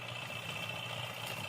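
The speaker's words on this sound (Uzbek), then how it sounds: "har doim yilga o'rib yuradigan traktorimiz." A harvesting tractor engine idles steadily, a continuous mid-low hum with a constant high whine running through it, close by and alone.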